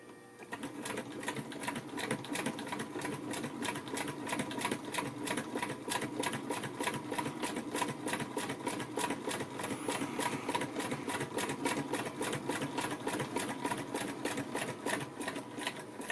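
A New National treadle-era sewing machine from about 1910, built by New Home, stitches fabric in a steady, fast, even mechanical clatter that runs continuously and close up from start to finish.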